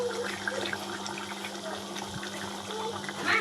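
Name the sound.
pouring hot water into mutton curry pot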